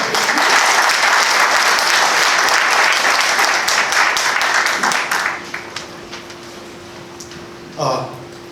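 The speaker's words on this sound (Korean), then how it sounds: "힘찬 박수로 모시겠습니다" Loud, dense applause from an audience at a Korean labor union hearing welcomes a speaker, holding steady for about five seconds before thinning out into scattered claps, a low hum and a brief voice near the end.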